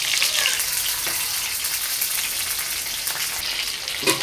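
Chicken sizzles and crackles in hot oil, a dense steady hiss with scattered sharp pops and spatters close by, and no voices.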